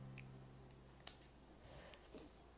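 Scissors snip through crochet yarn while finishing a half-moon crochet rug, giving a few quiet, sharp clicks close by in a hushed room, with no talking.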